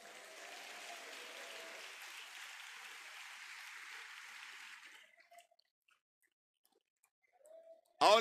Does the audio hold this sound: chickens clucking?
no